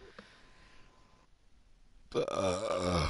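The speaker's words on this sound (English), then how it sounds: "I got the burps right now." A single loud burp erupts near the end after a quiet stretch of low room noise, close and abrupt.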